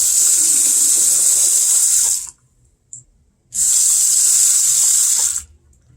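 Water from a sensor-activated kitchen faucet runs in a steady hiss, stops, gives a brief spurt, then flows again steadily before cutting off.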